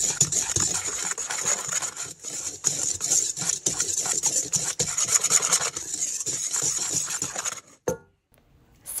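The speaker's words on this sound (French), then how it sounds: "réduire en poudre 130 g de flocons d'avoine sans gluten" Gluten-free oat flakes being ground to a powder in an electric grinder, a loud, steady rasping whir with rattling grains that runs continuously, then cuts off abruptly near the end before a brief restart.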